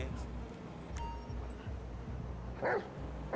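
A dog barking in the video game Grand Theft Auto V, with a short close yap over a low, steady game background.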